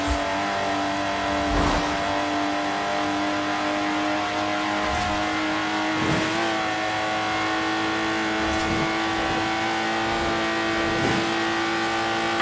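A Lotus Exige driven in the racing game Forza Horizon 4, a loud, sustained engine drone with steady harmonic tone and periodic sharp transients like gear shifts or bumps, heard alone without talk.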